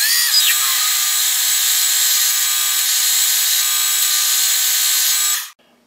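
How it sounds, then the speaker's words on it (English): A 23/32 drill bit boring into metal on a lathe gives a steady, loud high-pitched grinding whine that holds evenly for about five seconds, then cuts off abruptly. "I'm set up with a 23/32 drill"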